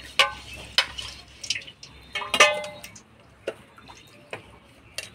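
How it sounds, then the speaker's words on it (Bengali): Freshly cut fish, including prawns, being rinsed clean in water: sparse small splashes, drips and light knocks against a bowl, close and quiet, with short pauses between them. "মাছগুলো কাটে নিলাম, এবার পরিষ্কার করে ধুয়ে নেব।"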